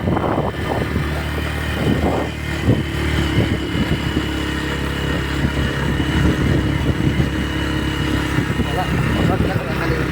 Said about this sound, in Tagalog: Yung gamit namin motor